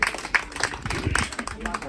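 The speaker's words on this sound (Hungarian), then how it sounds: "Úgyhogy ilyenkor is ért tapsolni a 0 pontnál." Scattered claps from a small audience at a retirement farewell quiz after a zero-point answer, brief and uneven, mixed with people talking.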